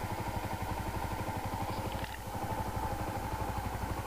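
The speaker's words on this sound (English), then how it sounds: "We're going to go ahead and push that and get the bike going." A motorcycle engine idles steadily in neutral after an electric start, a loud, continuous, even rumble with a regular pulsing beat that runs the whole time.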